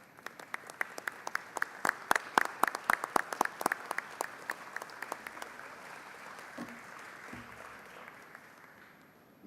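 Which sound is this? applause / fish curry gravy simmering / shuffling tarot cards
applause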